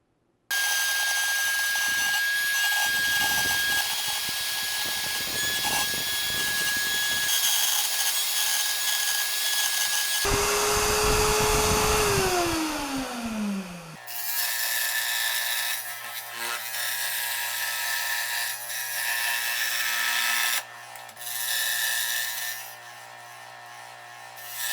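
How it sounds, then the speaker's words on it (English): A carving tool works notches into a wooden bottom plate for a marble machine, giving long continuous scraping and rasping with shifting pitch, close and loud, with no talk. "I carve out notches with a slight downward slope that will guide the marbles to where they're going next."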